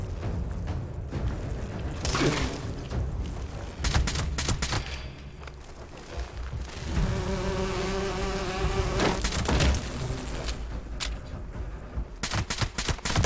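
Honeybees buzz in the video game Fallout 76, a steady insect drone mixed with bursts of gunfire and other game effects. The buzzing is most prominent in the middle of the clip.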